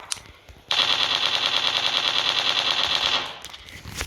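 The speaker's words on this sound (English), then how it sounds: "you can shoot at it from the machine gun" Machine gun firing in a video game, a loud, rapid continuous burst lasting about two and a half seconds after a quieter start, then cutting off abruptly.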